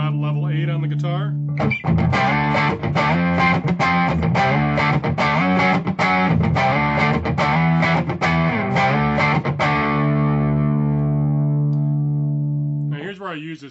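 Loud, crunchy distorted electric guitar through a Hao Rust Driver pedal, guitar volume raised to about 8, playing driving chords and riffs, sustained and close, ending with a brief decaying ring.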